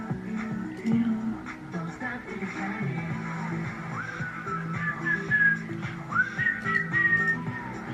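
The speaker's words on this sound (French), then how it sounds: "J'aime beaucoup ce sifflement." Melodic whistling carries a tune over a music track, with a sustained bass line and light rhythmic backing beneath.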